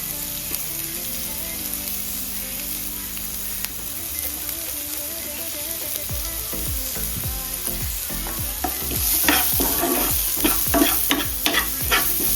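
Dumpling filling with chopped onions and chillies is stirred in a hot pan. A gentle sizzle under a low hum gives way to a quickening run of loud spoon scrapes and tossing strokes, with no one talking.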